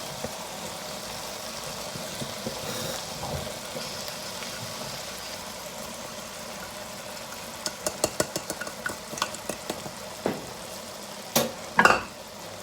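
Lamb brain (maghaz) cooking in a pan with fresh coriander, sizzling steadily while a spoon scrapes and stirs, with a burst of sharp clinking utensil strokes toward the end; no talk.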